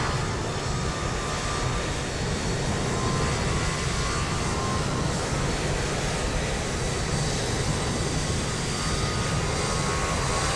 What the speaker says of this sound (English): Oh, hear those engines spool up.